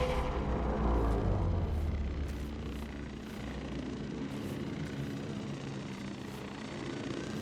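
Militech Wyvern drones fly overhead in Cyberpunk 2077, a steady low rotor-like drone with a heavy rumble that holds loud and continuous throughout, swelling slightly at the start.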